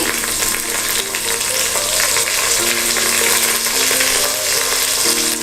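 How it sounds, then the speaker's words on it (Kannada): Mint and beans fry for vegetable pulav in a pan on the stove, a loud, steady sizzle filling the whole clip with occasional stirring scrapes and faint tonal hums underneath. "ಪುದೀನ ಹಸಿ ವಾಸನೆ ಹೋಗೋವರೆಗೂ ಚೆನ್ನಾಗಿ ಫ್ರೈ ಮಾಡ್ಕೋಬೇಕು"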